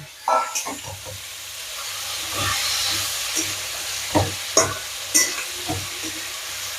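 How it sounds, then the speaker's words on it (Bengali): Steamed taro stolons go into a hot pan with shrimp and are stirred, giving a soft continuous sizzle broken by several sharp scraping clatters of the spatula. "কচুরলতি যেটা ভাপিয়ে রেখেছিলাম দিয়ে দিলাম।"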